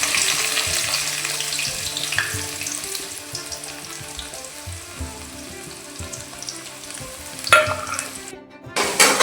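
Onions frying in hot oil in a home kitchen, a steady close sizzle throughout with stirring scrapes and a brief louder clatter near the end.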